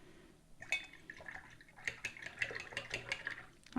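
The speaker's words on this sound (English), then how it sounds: "I think you can hear it bubbling in the background when I do that." Water splashing and bubbling in irregular bursts as a watercolor paintbrush is rinsed, small liquid gurgles and drips close by, fairly quiet with a soft background hiss.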